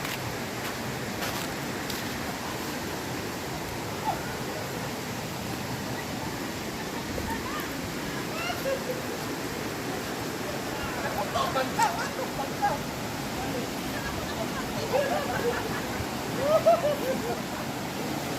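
A river rushes steadily near a waterfall at Tacul Falls in Sinapulan, Columbio, Sultan Kudarat, a constant broadband roar of water with faint voices and a few small knocks scattered through it.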